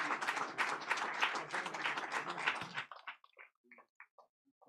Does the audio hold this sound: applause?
yes